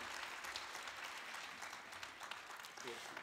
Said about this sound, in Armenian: Եկեք մեկ անգամ ծափարենք ու շնորհավորենք